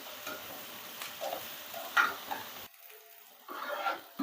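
Onion and dried red chillies fry in a pan with a soft, steady sizzle. Faint stirring scrapes and ticks come through, and the sizzle briefly drops away before returning.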